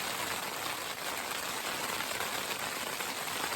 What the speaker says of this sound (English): Rain update, it's picked up. And it's hailing. A little bit of hail,